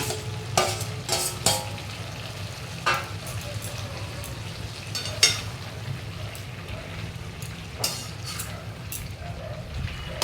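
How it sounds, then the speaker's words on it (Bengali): Ridge gourd, greens and fried potatoes cook in a pan with a soft, continuous sizzle, while a spatula scrapes and clinks against the pan in scattered strokes. "দু চার দানা চিনি দিয়ে ভালো করে নাড়িয়ে চাড়িয়ে নেব"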